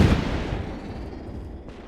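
A Pak 40 anti-tank gun firing a single shell in the Gates of Hell game, one sharp loud blast followed by a long decaying rumble and faint echo, with no talk.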